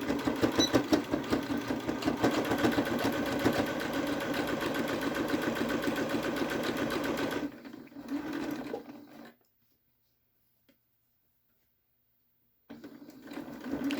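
A sewing machine stitches slowly around the curve of a fabric pocket mask, whirring steadily with a fast mechanical chatter, close and alone, then stopping into silence for several seconds before starting again.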